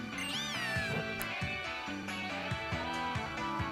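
The Litten cat Pokémon cry from Pokémon Ultra Moon, a rising and falling synthetic meow heard once early, over steady looping game music.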